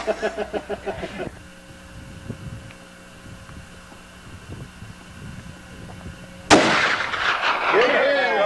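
A .450 Alaskan rifle firing at a target 250 yards away, one sharp loud blast with a ringing tail, followed later by another burst of noise, with people talking in between.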